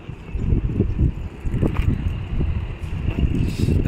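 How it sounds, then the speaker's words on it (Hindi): Strong outdoor wind buffeting the microphone, a continuous low rumbling roar with gusty swells and faint rustling throughout. "बहुत हवा चल रही है"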